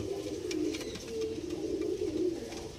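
Caged red-vein pigeons coo in low, throaty, rolling bursts, close and fairly steady, with faint background rustling and no talk.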